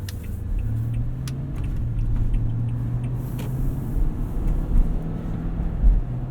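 A deep, steady V8 engine rumble from a 2018 Toyota Sequoia SR5 4X4 drones throughout, swelling slightly near the end, heard close up from inside the moving vehicle.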